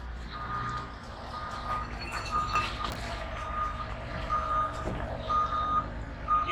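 A vehicle backing up gives off steady, evenly spaced reversing beeps over a low truck engine rumble, moderately close and continuing throughout.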